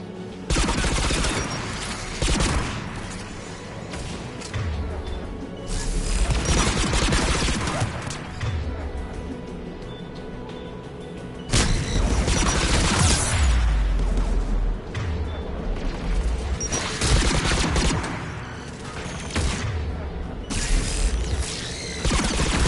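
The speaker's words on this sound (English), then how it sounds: "AA guns ahead." Anti-aircraft guns in the video game Mass Effect 3, a dense, continuous fusillade of rattling, mechanical bursts with heavy low booms, loud and unbroken throughout.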